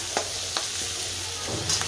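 Onion frying in a pan for a home-cooked vegetable dish, a steady soft sizzle with a few sharp stirring scrapes and taps from a spoon, close and moderately loud, no talking.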